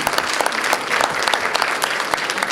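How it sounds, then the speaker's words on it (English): An audience at a magic and mentalism show gives a volunteer a warm round of applause, brisk and continuous clapping from a room full of people. "Give Gail a nice round of applause."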